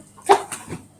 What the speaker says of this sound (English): It's not a cat, it's a dogs.